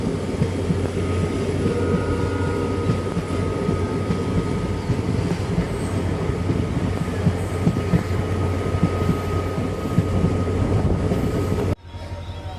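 The Madurai passenger train runs from Rameswaram to Palani, a loud continuous rumble of wheels and carriages with a steady low drone and rattling. It cuts off abruptly near the end to a quieter tone.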